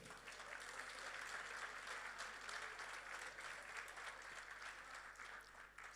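A church congregation applauding during a sermon, steady dense clapping from many hands at close range that keeps an even level for the whole stretch, with a faint voice here and there.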